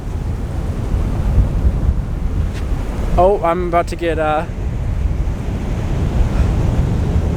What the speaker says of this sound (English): there's the wave coming in right now.